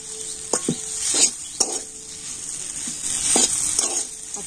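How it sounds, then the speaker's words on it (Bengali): Peanuts stirred into a potato filling in a hot pan, with a continuous sizzle and several distinct scraping strokes of a spatula against the metal, close by and clear. "চীনা বাদামটা দিয়ে আলুর সাথে একটু ভালোভাবে আমি মিশিয়ে নিচ্ছি।"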